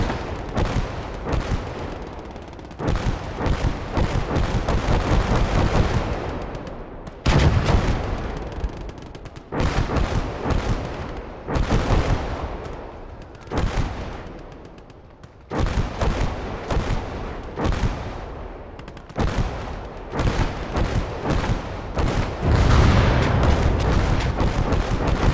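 Heavy gunfire and explosions from the Gates of Hell World War II video game, with repeated booming blasts and rifle and machine-gun bursts in dense, loud volleys separated by brief gaps.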